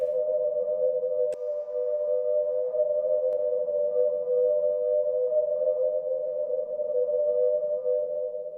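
A whistled tone sampled into a Teenage Engineering EP-133 K.O. II and drenched in reverb, holding one steady, sustained pitch with a soft wash of echo for the whole stretch, with a single faint click near the start.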